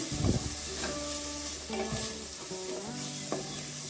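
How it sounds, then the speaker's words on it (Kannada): Two green chillies sizzle and fry in a pan for a gravy, with a steady crackle and a few scrapes of a spoon stirring them, close and continuous. "ಚೆನ್ನಾಗಿ ಫ್ರೈ ಮಾಡ್ಕೊಳ್ಳೋಣ ಎರಡು ಹಸಿರು ಮೆಣಸು ಹಾಕ್ಕೊಂಡಿದ್ದೀವಿ"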